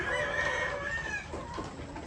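Breeding hens cluck and murmur close by, overlapping calls with a steady farmyard hum underneath.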